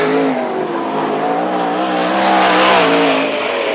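Sprintcars racing at Mac's Speedway, a loud, close, high-revving engine roar that wavers in pitch as the car powers down the back straight, with other engines droning beneath.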